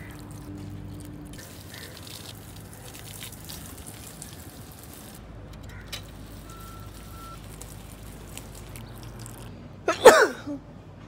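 A single short, sharp sneeze bursts out near the end after a long stretch of quiet room noise.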